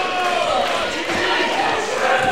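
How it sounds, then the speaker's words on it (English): Wrestling arena crowd roaring steadily behind Chi-Chi Cruz, a dense, continuous wall of cheering and shouting from a large audience. "listen to this crowd getting behind Chi-Chi Cruz, urging him on."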